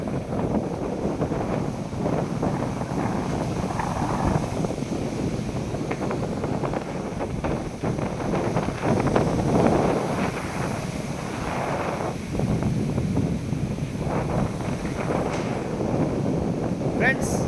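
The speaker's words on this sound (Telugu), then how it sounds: "గాలి, అలల సౌండ్ మంచిగా ఉంటుంది" Strong wind buffets the microphone as sea waves roll and wash onto Dhanushkodi beach, a steady loud rushing roar that swells and eases without pause.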